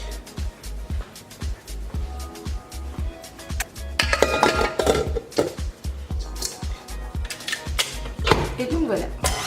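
A utensil scrapes and knocks against a bowl as unicorn sablé cookie dough is mixed, with irregular clattering taps that grow busier and louder midway, close by and without talk.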